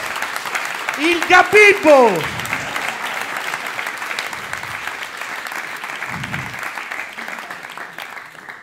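At a stand-up comedy show, a performer's voice briefly shouts over the start, then the audience breaks into steady, fairly loud applause that carries on evenly to the end with brief murmurs inside it.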